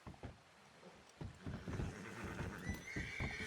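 A horse in a video game neighs and whinnies while its hooves clip-clop in a steady rhythm, loud and close, with no talking over it.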